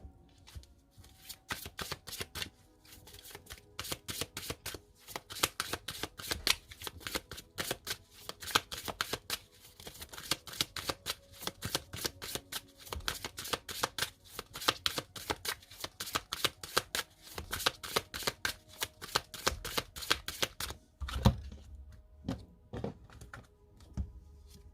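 A deck of oracle cards being shuffled, with dense, rapid flicking riffles that run close and steady for about twenty seconds before slowing into a few soft taps, and no talk.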